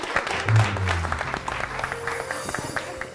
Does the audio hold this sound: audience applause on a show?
yes